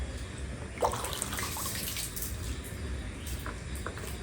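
Water is poured from a mug to rinse a surface during house cleaning. The result is a faint, continuous wash of splashing water with a few small drips and splashes, and no speech can be made out.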